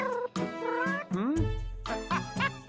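A pet cat meows several times in a row, with long, rising and falling close-up cries and brief gaps between them, alongside a low hum.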